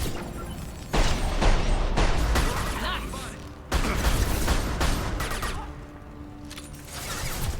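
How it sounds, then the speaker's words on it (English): Gunfire in a Mass Effect 2 firefight: bursts of rapid shots with sharp cracks and booms, loud and close, surging at about one and four seconds, with a voice speaking during the action. "His gunfire shook my camera all over the place."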